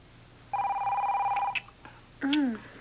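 A telephone ringing on a 1999 soap-opera set, one long loud electronic trill burst followed by a shorter second ring, close and clear with no talk over it.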